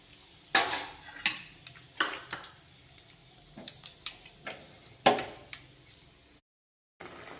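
Ground masala spooned into a pan of fried red chillies, with a series of distinct metallic clanks and scrapes spaced a second or so apart, close and moderately loud, ending in brief silence.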